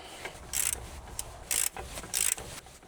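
An 18 mm wrench tightening a tie rod end nut, giving three bursts of bright metallic ratcheting clicks separated by short pauses, close by.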